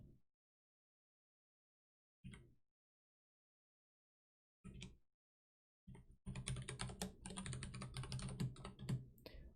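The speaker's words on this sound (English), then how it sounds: "I don't really feel like typing this." Keys on a computer keyboard are struck in a few isolated single taps separated by silence, then break into a rapid, steady burst of close, crisp typing.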